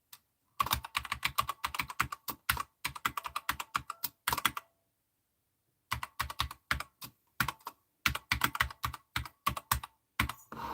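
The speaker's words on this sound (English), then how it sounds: "Why am I not typing here?" Computer keyboard typing in close, quick bursts of clattering keystrokes, broken by a full pause of about a second before the tapping resumes. No voices are heard.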